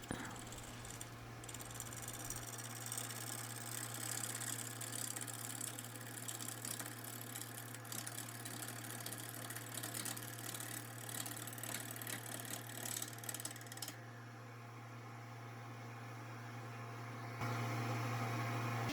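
A wood lathe spins a heavily off-balance bowl blank for a fresh fruit bowl, giving a steady loud motor hum with a strong low drone and rattling high noise throughout, shifting slightly as the speed is raised near the end.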